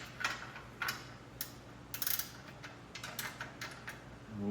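An 11/16 wrench works loose a bolt on the wheel of a 1967 Schwinn Typhoon bicycle: a series of faint metallic clicks and ratcheting ticks, irregular and close, with no speech.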